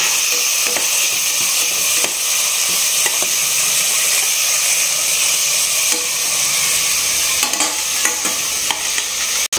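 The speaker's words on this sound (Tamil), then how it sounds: "காய் போட்டு நல்லா 5 நிமிஷம் நல்லா வதங்கிடுச்சு." Peas, beans and carrot sautéing in a pan for vegetable biryani, a steady close sizzle and fry with intermittent stirring clicks of a spoon against the pan throughout, no voices.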